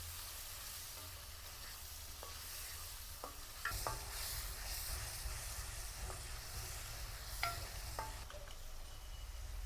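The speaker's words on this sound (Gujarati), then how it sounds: "એને બરાબર મિક્સ કરી વાળશું." Cauliflower and potato curry sizzles steadily in a pan while being stirred, a soft continuous frying hiss broken by occasional spoon scrapes and clicks, close and quiet with no talking.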